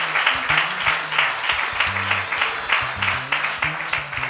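A church congregation claps for pastor Liliane, steady rhythmic applause with a low tonal backing running beneath it throughout.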